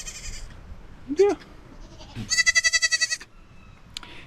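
Baby goats bleating, including a young buckling: several short, close bleats, one of them a quavering, stuttering cry, with a brief spoken word and light background voices.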